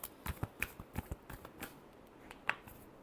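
A deck of tarot cards is shuffled by hand in short bursts of soft riffles and taps, close and quiet, with a brief sharp card snap near the end.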